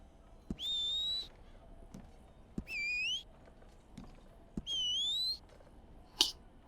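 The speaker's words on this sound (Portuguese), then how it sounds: "Assobio" A character in Red Dead Online whistles three rising, sustained tones in a steady pattern, clear and close, with a sharp click at the end and soft game ambience underneath.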